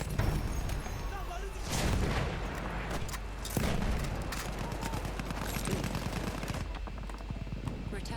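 Rapid machine gun fire in a Battlefield 1 multiplayer match, with sustained bursts and loud, dense cracks, plus occasional booms in the background and voices talking over the shooting.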